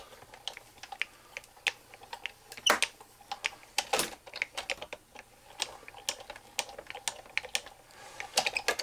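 A die-cutting machine cranked by hand as a cutting plate rolls through while making a balloon dog birthday card, a rapid run of clicking, ratcheting ticks with a few louder clacks, close and steady with no voices.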